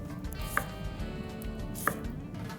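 A knife finely slicing red onion on a board gives two sharp, distinct cuts spaced over a second apart, close and clear against a quiet kitchen background.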